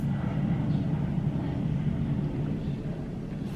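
A jet airplane flying low overhead near an airport, a steady, loud broadband roar that fills the whole stretch with no speech on top.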